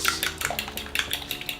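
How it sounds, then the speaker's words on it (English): Eggs beaten with a fork in a bowl make rapid, close metallic clinks and taps, several quick bursts of whisking in an uneven rhythm, with no talking. "Fork, and just beat it."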